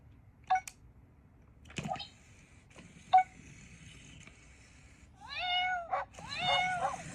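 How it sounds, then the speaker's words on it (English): A small Cooper coding robot plays cat and dog chase sounds, giving a few short meows and chirpy electronic cries that are spaced apart, fairly faint, with a quiet hum beneath. "There's one more that Cooper does a cat and dog chase."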